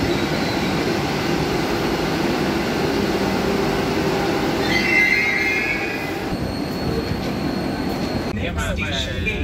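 Steady rumble of the 20607 Vande Bharat Express on the Bangalore to Mysore run, heard from inside an AC chair car coach, with continuous wheel and rail noise and a brief higher squeal midway.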